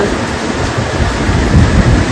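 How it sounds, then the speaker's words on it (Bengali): Loud, continuous low rumble with heavy hiss, like thunder rolling over steady rain, no voices. "এই দেখুন মেঘের আওয়াজ গর্জন শুনতে পাচ্ছেন"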